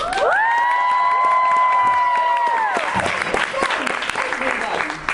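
Applause and cheers from a live podcast audience at LeakyCon Orlando fill the room with broad, steady clapping. A drawn-out whoop or sung vocal tone rises over it, and the noise thins after about three seconds while the crowd keeps murmuring.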